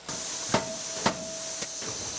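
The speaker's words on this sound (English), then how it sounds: "it's a hammer press. So that's a hammer that actually comes down like a hammer and actually pounds it 3 times into roughly the shape of a golf club" A hammer press forges a mild carbon steel golf club head, striking three sharp, heavy blows at roughly half-second intervals over a constant loud industrial hiss.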